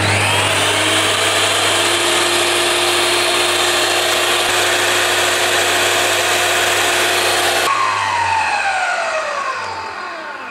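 Bosch GTS 10 J table saw switching on with soft start, a loud, even motor whine with blade hum lasting about eight seconds before the power cuts and the blade coasts down with a falling pitch.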